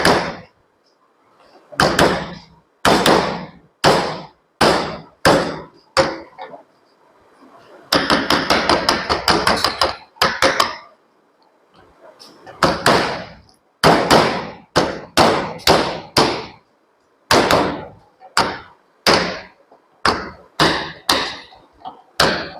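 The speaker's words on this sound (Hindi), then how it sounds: "बाद आपको थोड़ा सा ऐसे करके ठोक लेना है।" Transformer winding wire being hammered into place after the secondary winding is finished, a long run of loud, close, sharp hammer blows in quick bursts and rapid rolling volleys, separated by short pauses.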